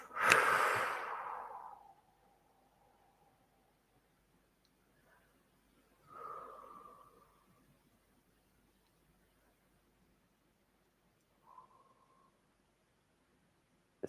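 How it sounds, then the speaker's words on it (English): Deep breaths drawn in during a meditation session: a loud, close inhale at the start, then a softer breath mid-way and a brief faint one later, separated by near silence. "Deep breath in."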